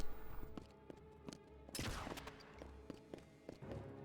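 Gunfire in the Enter The Matrix video game: sharp, separated shots and thuds over a droning game soundtrack, with one louder burst in the middle, all fairly faint.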